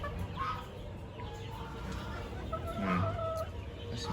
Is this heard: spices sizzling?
no